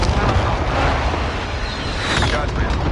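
Heavy, continuous rumbling airstrike explosions in Call of Duty Warzone fill the stretch, a loud, dense barrage of booms and blasts with no breaks, and voices blend faintly into the din.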